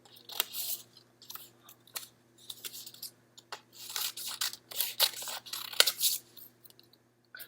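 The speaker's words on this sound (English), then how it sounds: "Cut some long triangles, like this" Scissors snip through paper to cut out long triangles, with a quick series of crisp close cuts and rustling, steady and nearby for several seconds.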